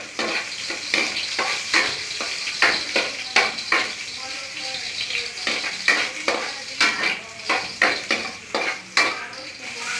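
Garlic is added to a cooking pot and stirred, with a constant sizzle under rhythmic metal scrapes and clanks of a utensil against the pot, repeating close and loud.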